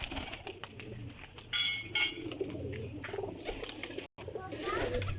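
Pigeons, Sialkoti females among a small lot being sold, cooing repeatedly at close range with low throaty calls, over background noise and brief bird chirps.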